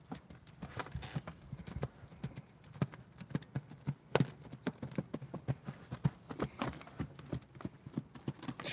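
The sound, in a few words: horse trotting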